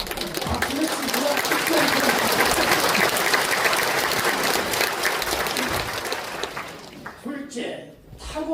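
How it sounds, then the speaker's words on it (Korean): A church congregation claps at a thanksgiving service installing a senior pastor, a long sustained round of many hands that fades out near the end with voices underneath. "박수를 치고"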